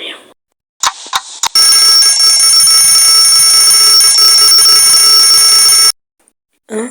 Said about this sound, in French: Ah, juste le réveil.